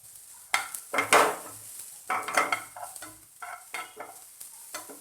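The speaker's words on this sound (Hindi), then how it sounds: "मैं इसमें शिमला मिर्च डाल दूंगी और इसे भी आधा मिनट हम अच्छे से फ्राई कर लेंगे" Chopped capsicum frying in butter in a pan, with a soft sizzle broken by loud, repeated bursts of spatula stirring and scraping against the metal.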